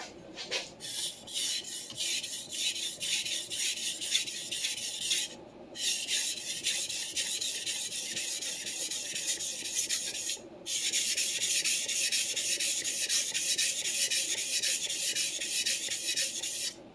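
A vintage Clyde Cutlery chef knife sharpened on a whetstone: steady rhythmic grinding strokes of steel over stone, close and continuous, with two short pauses between passes.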